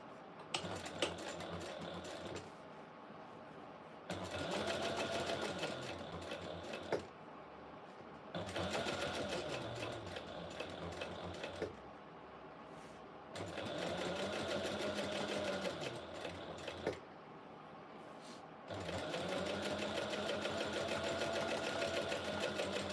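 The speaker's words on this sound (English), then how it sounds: "then I'll top stitch along the vinyl" A sewing machine top stitches along vinyl with a long stitch length, running in four steady bursts separated by short pauses; each burst is a close, even mechanical chatter.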